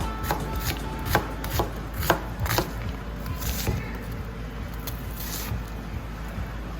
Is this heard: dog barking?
no